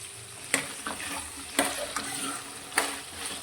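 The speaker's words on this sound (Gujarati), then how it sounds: "ત્રણ મીડિયમ સાઈઝના બટેકાના આ રીતે છાલ કાઢીને ટુકડા કરી લીધા છે તે અંદર લઈ લઈશું" Peeled medium potato pieces stir-fry in a hot pan over a high flame, with a soft continuous sizzle broken by several sharp spatula scrapes and clacks.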